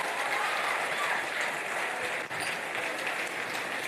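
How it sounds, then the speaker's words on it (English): Sustained applause from a conference audience after a speech at The Platform Nigeria: a thick, even roar of many hands clapping, moderately distant, steady throughout with only a brief dip. "keep the applause coming."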